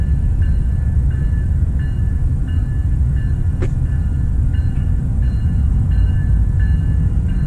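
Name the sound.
freight train passing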